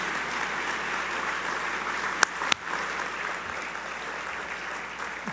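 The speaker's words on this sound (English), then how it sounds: "a round of applause for this young man" A room full of guests applauds at an awards dinner, steady continuous clapping throughout, broken by two sharp brief knocks midway, moderately loud and without talk.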